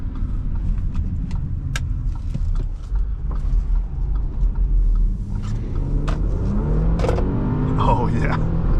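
A 2016 Audi Q5 with the supercharged 3.0T engine pulls away under throttle, a low engine rumble building in pitch as it accelerates, heard from inside the cabin with some road noise and clicks.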